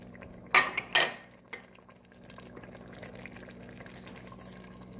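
A utensil scrapes and clanks against a pot as onion and celery are mixed into homemade chili, with a few sharp knocks early on and then quieter stirring and scraping.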